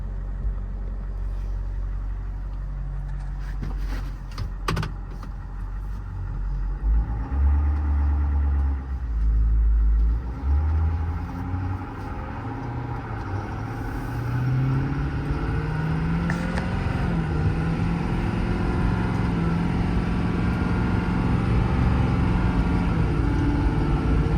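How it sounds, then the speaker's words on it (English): A 2020 Ford F550 diesel truck engine rumbles steadily from inside the cab, its pitch dipping and climbing as it works through gear changes over a long run. "Plenty of power, shifts through the gears nicely."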